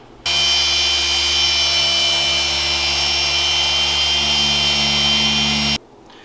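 A power polisher buffs a 1995 Sea-Doo XP800 hull with compound, giving a loud, steady whirring drone with a high tonal whine. It runs unbroken for about five seconds, then cuts off abruptly.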